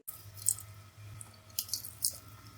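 Water sprinkled by hand over biryani in a pot lands as a few light, soft splashes and drips, spaced irregularly over a quiet kitchen hum.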